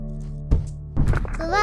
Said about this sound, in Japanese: 爆発した。 岩が壊れた。